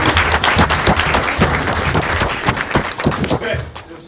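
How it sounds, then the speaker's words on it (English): Applause at a city school board meeting for a group of coaches: a full, continuous crowd clapping, loud and close, with individual claps standing out and tapering slightly at the end. "please give your coaches a round of applause"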